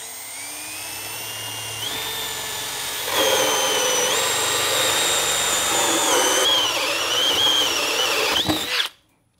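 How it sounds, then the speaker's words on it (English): A power drill spins a hole saw through wood while cable is being run, a sustained high whine that rises in pitch and grows louder partway as the cut bites, then cuts off abruptly. "we gotta drill a hole through there with a hole saw"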